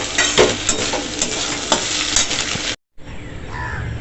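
Egg frying in a pan with salt and turmeric in a home kitchen, a steady broadband sizzle with stirring scrapes, briefly cutting out before the frying resumes more softly.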